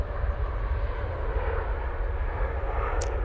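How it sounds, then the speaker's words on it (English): A TUI Boeing 787-8 Dreamliner taking off from Manchester Airport for Paphos, a steady broad jet engine rumble, heavy in the low end, sounding continuous and unbroken with no talk. "there goes that TUI Dreamliner off to Paphos"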